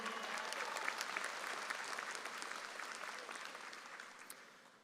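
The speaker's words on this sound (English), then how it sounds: "but give him a round of applause also." A high school graduation audience breaks into applause, many hands clapping in a dense, steady wash that slowly tapers off, with faint crowd noise beneath.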